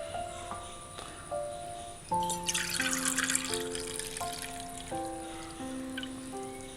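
Water from a rinsed mixer jar trickles and splashes into a bowl of rice batter for neer dosa, a steady pour near the microphone with sustained tonal music underneath.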